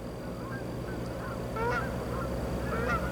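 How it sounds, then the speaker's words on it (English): Several geese give short, nasal honks, some of them in quick pairs, against a steady low background hum. "And he is a silly goose!"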